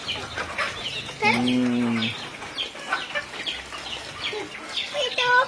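Farm chickens clucking nearby, with one drawn-out cackle and scattered short clucks while people talk over them.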